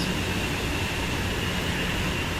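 Eurostar train running in Train Sim World 2, heard from the interior as a steady broad rumble and hiss of rolling on rails, continuous and even with no voices.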